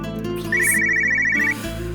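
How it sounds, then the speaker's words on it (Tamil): A telephone rings with a short electronic trill, one clear ring burst lasting about a second over a steady low background hum. "ஃபோன் அடிக்கிட்டோம்"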